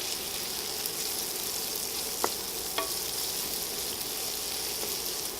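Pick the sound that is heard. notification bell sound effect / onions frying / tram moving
onions frying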